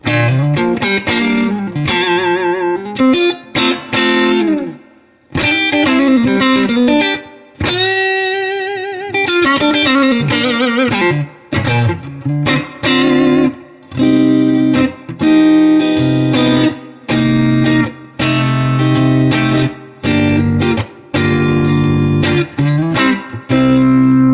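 An electric guitar plays loud, slightly overdriven chords and phrases through a Super Reverb tube amplifier with all pedals disengaged, with brief pauses between strums and no voices.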